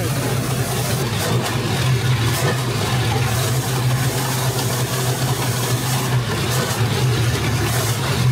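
The engine of a 1942 Jeep Willys idles steadily with a low, even hum and no revving, continuous and fairly close throughout.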